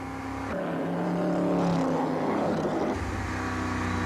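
A Lola race car takes the final corner before the finish of a 1995 clock race, its engine a steady loud drone that rises slightly in pitch mid-pass and then settles, with no talk over it.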